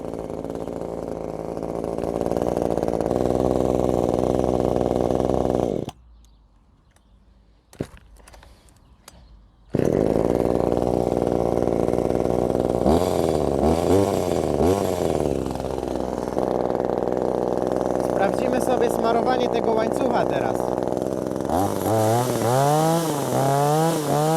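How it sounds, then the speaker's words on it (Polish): A Parkside PBBPS 700 A1 petrol chainsaw being run in runs steadily at idle and mid revs, briefly dropping near silent for a few seconds before roaring back and revving up and down. "Zostawię ją teraz na chwilę. Niech sobie pochodzi z dwie minuty."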